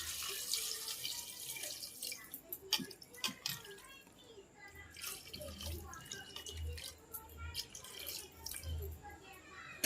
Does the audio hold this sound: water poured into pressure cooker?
yes